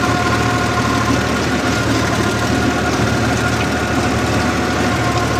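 A tractor engine runs steadily while ploughing a cotton field, a loud, constant rumbling drone with no talk over it.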